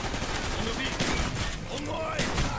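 Dense gunfire fills a Call of Duty Black Ops campaign firefight, rapid overlapping shots and bursts crackling loud and continuous throughout, with a voice briefly talking over the battle.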